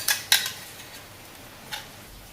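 Chicken chammanthi podi, a dry chutney powder, being moved onto a plate, heard as two quick metallic clinks of a spoon against the dish, then a softer scrape and a faint tap.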